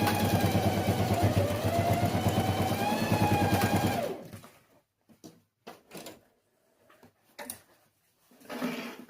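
A sewing machine runs steadily for about four seconds, stitching a fabric pencil case made with milk cartons. The whirring then stops, leaving a series of soft clicks and handling knocks.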